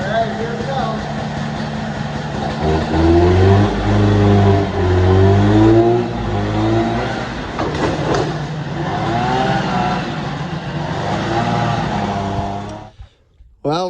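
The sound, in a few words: Ski Whiz snowmobile engine starting and revving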